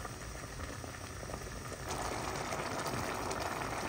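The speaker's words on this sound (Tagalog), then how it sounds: "kumukulo na po." Faint bubbling and hissing of water boiling in a pot of softened mung beans, growing fuller and louder partway through.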